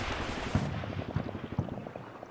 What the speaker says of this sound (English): Trying to spot for these mortars.